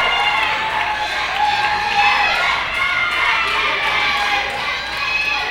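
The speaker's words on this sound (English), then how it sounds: "the crowd chanting for the submission" Anarchy wrestling crowd in Georgia chanting and shouting for a submission at a Stryknyn versus Billy Buck match, a loud, dense and steady mass of voices with higher individual yells rising throughout.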